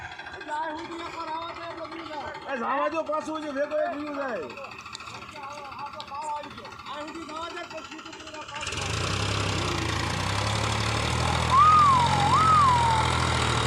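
Voices talk at first, then a tractor engine catches about two-thirds of the way in and settles into a loud, steady low rumble with a brief whistle on top.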